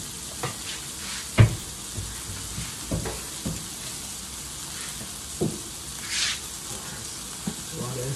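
Sausage frying in a pan, a steady soft sizzle with scattered pops and crackles, fairly quiet and heard alone.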